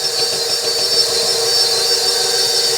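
A KitchenAid stand mixer beats cookie dough with a steady high motor whir and a constant buzzing hum that stays loud and even, with no talking.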